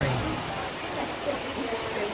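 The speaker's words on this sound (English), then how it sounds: "are we going to let a little rain stop us?" Steady rain falls outdoors near a general store in Pigeon Forge, an even broadband hiss with scattered drops, close and continuous throughout.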